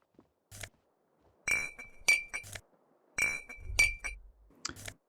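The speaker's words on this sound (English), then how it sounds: "Oh, we got some bottles in here to collect." Glass bottles clink as they are picked up and collected in the Disco Elysium video game, several sharp, loud ringing clinks arriving in short irregular clusters against near silence.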